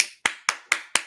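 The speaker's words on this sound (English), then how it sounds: "I'm sorry, I'm clapping loud" Four loud, sharp hand claps at a board meeting, evenly spaced and close by, each a crisp broadband crack that quickly decays, with no voices in between.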